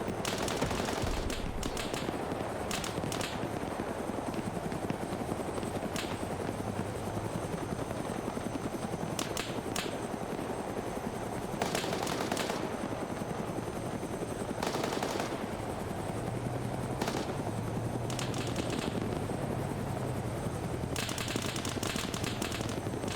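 Gunners in the video game Arma 3 fire machine guns in repeated short bursts over a steady, loud helicopter rotor drone that runs throughout.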